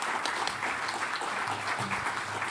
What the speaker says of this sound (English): another round of applause then